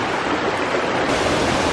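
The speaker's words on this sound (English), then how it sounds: "We're at the waterfall!" A waterfall on a jungle hike near Chiang Mai pours with a continuous, loud roar of rushing water. It sounds close and fills the short stretch evenly, with no voices over it.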